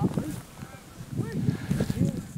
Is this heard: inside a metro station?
no